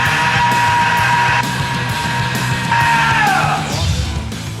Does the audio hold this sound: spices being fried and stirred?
no